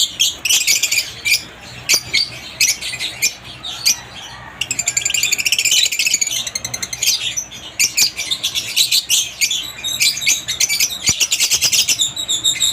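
Pet parblue and green opaline pale fallow birds at an aviary in Muntinlupa keep up a dense stream of high chirps, squawks and chatter, loud and close, with no talking.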